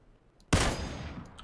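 A single sharp rifle shot in PlayerUnknown's Battlegrounds bursts out loud and close after a brief quiet, then decays into a lingering echoing tail.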